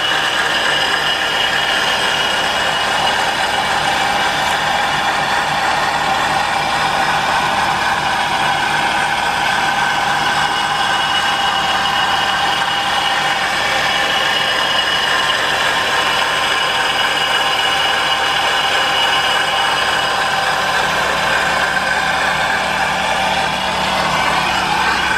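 A 2009 Nissan Altima with a 2.5 liter engine and 147,175 miles idles at a salvage yard, a loud steady mechanical drone with a ticking, ratchety texture throughout.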